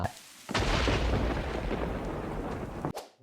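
A lightning strike in the Minecraft video game sets off a loud thunder boom with a sharp onset, then a dense rumble for over two seconds before it cuts off.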